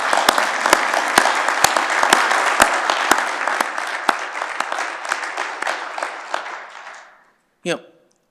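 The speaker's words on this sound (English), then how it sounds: "let's give them a round of applause" A gala audience applauds fallen veterans, a dense, loud wash of clapping with sharp individual claps standing out near the front. It fades out after about seven seconds, and a short voice follows.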